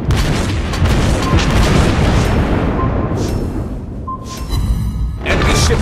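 Heavy, sustained booming blasts from torpedo strikes on warships in World of Warships Blitz, with a U.K. Tier 6 battleship Queen Elizabeth in the fight; loud, dense rumbling impacts fill the whole stretch with short dips between hits.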